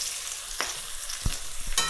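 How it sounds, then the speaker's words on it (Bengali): Slices of eggplant (brinjal) fry in oil in a pan, a close, continuous sizzle broken by a few sharp clinks and scrapes as the pieces are stirred and turned. "বেগুন ভাজা করতে, তো বেগুন ভাজা হচ্ছে"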